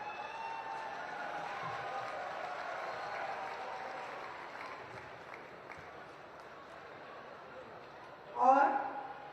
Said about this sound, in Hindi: तालियां इस यंग इन्वेस्टर को, जो कि 100 करोड़ के रेवेन्यू जनरेट करते हैं।